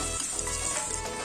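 Onions sizzle and crackle in a hot pan for poha biryani, a steady close frying hiss with small pops.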